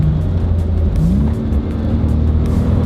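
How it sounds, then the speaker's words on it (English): A car engine hums steadily at close range, its pitch rising and falling slightly as the vehicle drives along, with no talking. "Car's running good"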